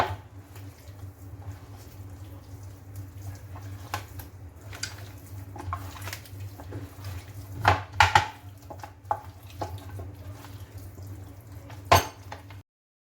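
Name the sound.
mixing chopped ginger into chicken marinade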